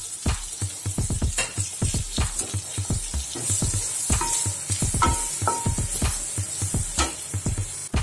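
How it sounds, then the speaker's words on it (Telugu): Raisins, cashews and thin coconut pieces frying in a pan for sabudana payasam, crackling and popping in quick irregular bursts over a soft sizzle, close and fairly loud. "ఇలా అన్నీ వేసి 1 మినిట్ వేయించుకోవాలి"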